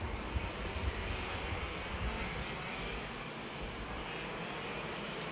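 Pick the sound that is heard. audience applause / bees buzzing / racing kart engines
racing kart engines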